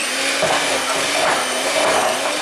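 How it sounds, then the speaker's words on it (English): An electric mixer creams butter (ghee) and sugar with a loud, continuous motor whir and a faint grinding of the beaters in the bowl, heard close up with no talking. "I'm going to cream my butter and my sugar together now."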